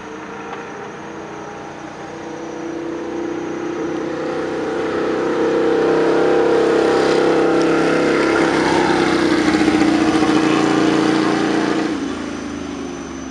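A Ducati 1199 Panigale S sportbike engine runs as the motorcycle is ridden, a sustained loud drone that swells gradually in the middle and holds steady before easing slightly at the end.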